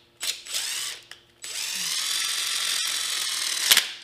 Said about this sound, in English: Fits the drill driver. Plugs right into the drill driver, and